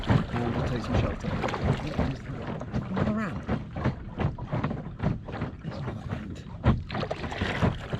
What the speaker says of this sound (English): I'm going to paddle over to the eastern bank here